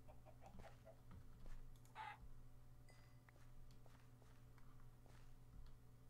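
Chickens in Minecraft give faint, scattered clucks under low background noise, with light footstep-like taps in a quiet outdoor scene.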